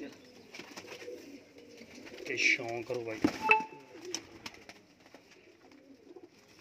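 Pigeons coo at an outdoor pigeon sale in Amritsar, with a few clear nearby coos amid a noisy crowd and someone talking over them.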